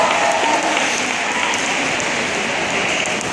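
An audience claps for a dance team competition in a gymnasium, a dense, steady roar of clapping that carries loud and even from start to finish.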